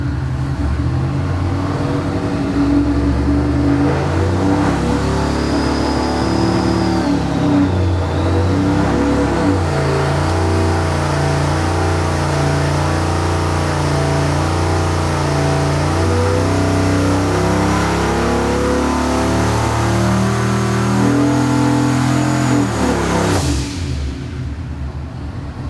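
A 302 V8 car engine revving through a full-throttle pull on a dyno, a loud, steady roar climbing and sustained for over twenty seconds, then cutting off near the end.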